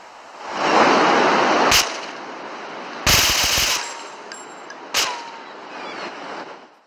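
An M16 assault rifle fires in GTA 3, loud sharp bursts and single cracks over a rushing, roaring background, close and forceful, with gaps between the shots.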